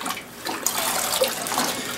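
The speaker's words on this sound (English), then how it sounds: "as I'm rinsing this out in this bucket here, it's filled with, I mean, it's really bloody already" Bloody deer hide being rinsed and sloshed in a bucket of water, with close splashing and swirling that rises and falls in short surges, loud and without talk.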